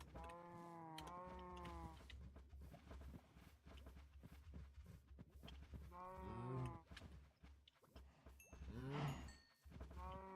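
Cows in Minecraft give several drawn-out moos, two close together at the start and more later, over a low steady background hum.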